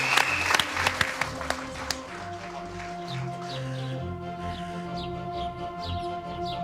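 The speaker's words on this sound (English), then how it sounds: "So a big round of applause" Studio audience applause at a model railway building competition, a dense burst of clapping at the start that thins and continues under sustained tones and chirping sounds.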